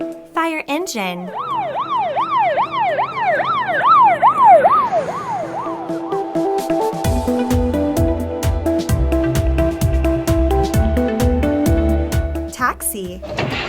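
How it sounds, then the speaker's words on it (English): A fire engine siren wails in rising and falling sweeps, close and loud, then gives way to a horn blaring in a steady rhythm. "Fire engine."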